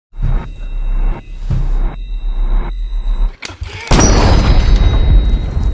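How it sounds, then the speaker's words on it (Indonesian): In a film scene, a blind veteran shoots an intruder. Pulsing low rumbles lead into one loud, sharp gunshot bang, followed by a burst of dense, sustained noise from the soundtrack. "si kakek pun menembak ke kepala Manny dan seketika tewas"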